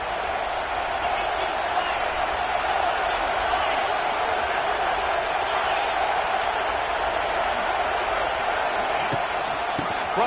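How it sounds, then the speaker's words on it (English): Stadium crowd at a football game during a red zone drive, a dense, sustained roar of cheering that holds steady throughout. "This crowd knows when to bring it."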